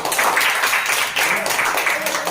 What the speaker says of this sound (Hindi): हाँ और अपने ताली बजाओ सब।